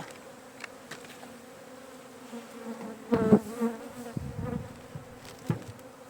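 Honeybees buzz around a hive in an outdoor apiary, a steady faint drone with a few closer, louder passes near the middle and some handling noise, no speech.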